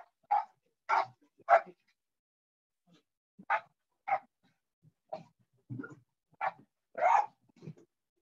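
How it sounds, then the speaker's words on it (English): A dog barks during a video call, with a series of loud, near barks in uneven bursts and short gaps of silence between them. "What Zoom call without a dog interruption?"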